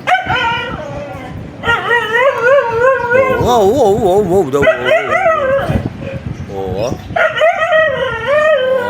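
A dog barks, yips and whimpers in a long series of high, wavering cries close by, while someone talks over it with repeated exclamations.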